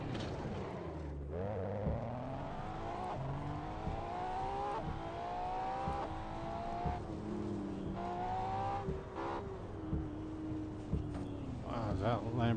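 Race car engines roar in the Assetto Corsa driving game as a Lamborghini passes, with revving engine tones rising and falling through gear changes, loud and close.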